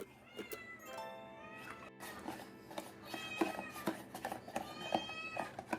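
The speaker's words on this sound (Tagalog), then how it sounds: "medyo nagliligalig na yung alaga kong pusa. Kasi nagugutom na siya" A hungry pet cat meows repeatedly in a home kitchen during ice cream making, several clear, fairly close drawn-out meows spread across the clip with soft handling noises between them.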